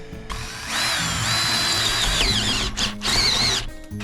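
A power drill whines loudly in two bursts, its pitch rising and wavering, with a brief pause between them.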